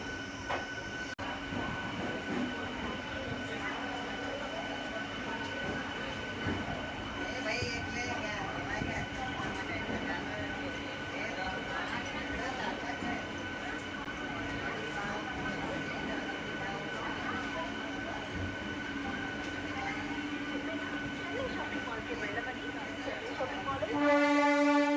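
A MEMU train at Kazipet railway station sounds as a steady rumble and hum under station noise with voices in the background, and a loud horn blast comes near the end.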